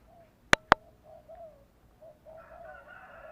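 Soft, low spotted dove cooing repeated in a slow series, with two sharp clicks near the start and a faint higher tone joining toward the end.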